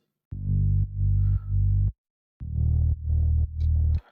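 Deep house synth bass notes in a steady pulsing pattern, each note ducking and swelling back from sidechain pumping, two short phrases separated by a gap.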